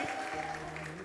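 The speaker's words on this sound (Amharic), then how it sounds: "እልልታ ጭብጨባ ለጌታ።" A church congregation at an Ethiopian prophetic service breaks into applause, a brief dense patter of clapping with a high ululation trill riding over it, fairly faint and distant.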